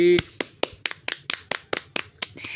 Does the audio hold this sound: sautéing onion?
no